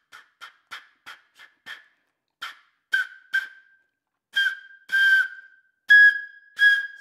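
A flute blown across the mouthpiece produces short repeated tones, then longer sustained notes that grow louder, each separated by silence.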